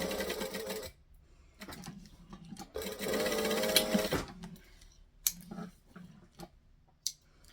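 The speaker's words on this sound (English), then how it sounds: "So I'm stitching all 4 sides because then it won't move" A sewing machine runs in long bursts while stitching all four sides of a sewn piece, its motor whirring steadily with brief pauses between runs and a few isolated clicks near the end.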